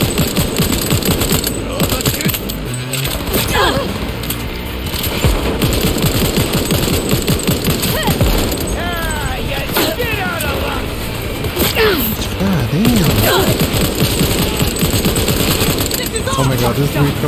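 Long stretches of rapid heavy-recoil automatic gunfire in Cyberpunk 2077, loud and continuous with dense rattling bursts, while a voice talks over parts of it.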